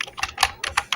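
Keys clatter on a computer keyboard while subtitle text is typed into Microsoft PowerPoint, with about six quick, close keystroke bursts in an uneven rhythm.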